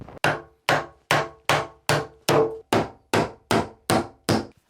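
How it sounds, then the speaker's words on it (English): Eleven evenly spaced hammer blows strike wooden boards of an outhouse floor on a Finnish island, each crack sharp and close with a short ringing decay. "Getting better at hammering."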